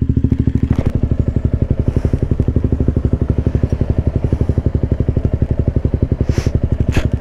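A motorcycle rides along a gravel road, its loud engine thumping in a fast steady pulse up close, with scattered crunches and a faint rider's voice behind it.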